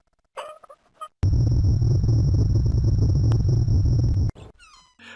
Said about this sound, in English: they recorded the sound of a car driving slowly along gravel to get the audio they wanted